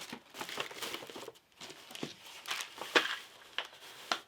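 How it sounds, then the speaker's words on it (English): Tissue paper crinkling and rustling as it is tucked into a gift bag, with a series of close, crisp crackles and soft crunches in irregular bursts. "tissue paper in your gift bag."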